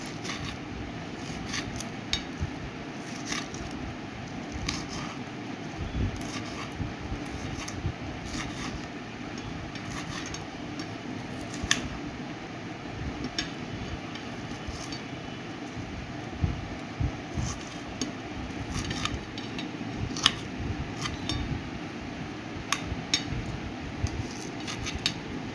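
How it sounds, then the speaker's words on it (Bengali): A knife chops an unpeeled onion into small pieces on a board: a long run of quick, close, crisp taps in an uneven rhythm, with light clinks now and then, and no voices. "খোসা শুদ্ধ পেঁয়াজটাকে আমি এখন কুচি কুচি করে কেটে ফেলব,"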